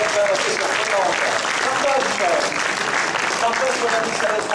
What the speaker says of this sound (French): applaudissements pour Adèle, s'il vous plaît